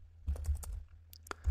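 Quick keystrokes as a command is typed on a computer keyboard, about half a dozen light clicks in a short uneven burst, close and fairly quiet.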